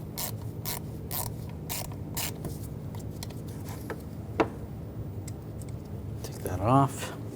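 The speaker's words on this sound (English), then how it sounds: "you can just use the regular ratchet with the T30 socket" Ratchet with a T30 socket turning bolts on the intake manifold of a 2011-2018 Volkswagen Jetta 2.0L TDI, giving a run of quick repeated clicking bursts over low engine-bay hum, with a sharper mechanical rasp near the end.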